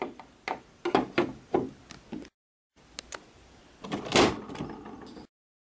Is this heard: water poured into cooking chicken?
no